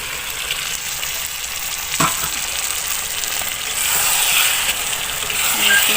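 Chicken meat, about 1.5 kg, sizzles and fries in a pot for curry while being stirred, a steady close crackle with occasional scraping knocks of the utensil.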